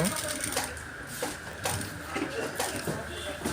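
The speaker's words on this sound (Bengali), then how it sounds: "কাপড়ের বাইন বরাবর রাইখা সোজা রাইখা এদিকে আমরা সেলাইটা দিব" A sewing machine runs continuously as it stitches the placket of a jubba, giving a close, steady mechanical rattle with a regular ticking rhythm throughout.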